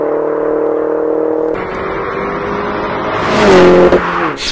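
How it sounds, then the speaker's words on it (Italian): A manual Mini John Cooper Works with its JCW exhaust revs loudly and up close, a steady idle swelling into a sharp rising rev near the end, with no talking over it. "E il suono è spettacolo con quello scarico JCV."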